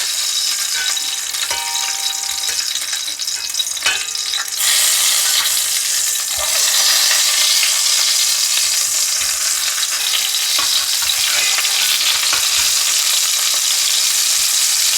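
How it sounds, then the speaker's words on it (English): Loud, steady sizzling of Roma tomatoes frying in hot oil, a continuous crackling hiss close up with occasional spatters, no voices. "When the oil has heated up, we're going to cook 4 Roma tomatoes."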